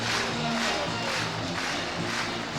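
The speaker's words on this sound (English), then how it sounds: "An expectant Rugby Park crowd." An expectant football crowd murmurs and roars at Rugby Park before Kilmarnock play Rangers, a broad, continuous wash of stadium noise with no single voice standing out.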